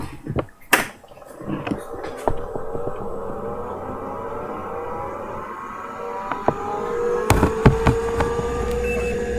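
Mechanical clicks and clunks at power-on of a vintage IBM personal computer, then a steady machine whir with a rising fan tone and a few sharp thuds and clicks later.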